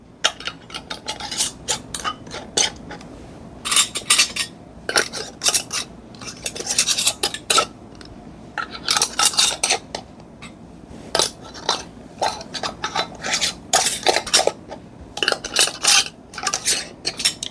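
Metal lids screwing onto glass half-pint jars of apple butter make quick, repeated gritty rasps and clinks in close bursts with short pauses between them, loud and near, with no talking.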